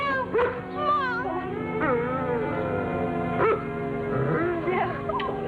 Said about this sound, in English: I thought I heard Lassie barking.